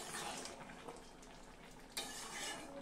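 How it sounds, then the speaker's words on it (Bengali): Shrimp are stirred into vegetables cooking in a pot, a quiet continuous scraping and shuffling of a utensil against metal, with a faint sizzle and one sharper knock near the end. "এবার চিংড়িগুলো ছেড়ে দেবো, এবার নাড়িয়ে নিয়ে"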